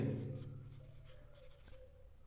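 A pen scratches numbers onto paper while someone solves a fifth-grade maths problem, producing soft, close, continuous strokes over a low background hum.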